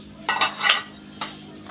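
A metal lid lifted off a cooking pot holding steamed egg paturi, Bengali style, giving a few quick clanks and scrapes close by, with no talk.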